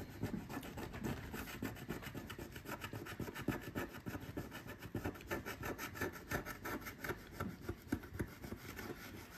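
Steady rapid scratching and rubbing as a coin scrapes across a lottery scratch card, a dense close-up rasping texture with rhythmic strokes continuing throughout.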